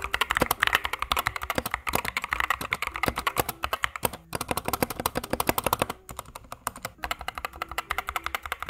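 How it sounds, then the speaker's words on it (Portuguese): Steady, fast typing on an Epomaker Skyloong SK61 mechanical keyboard with pre-lubricated switches, a dense run of close, crisp keystrokes with a few brief pauses and no talk. "então esse é o som de digitação do teclado."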